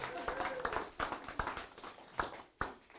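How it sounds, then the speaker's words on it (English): Sparse, uneven claps from a church congregation applauding assembly participants, close and irregular, with talk mixed in. "Round of applause."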